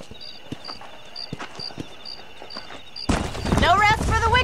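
Horse hooves clop in a steady rhythmic gait in the Western video game Red Dead Redemption, with the sound continuing under a voice that comes in partway through.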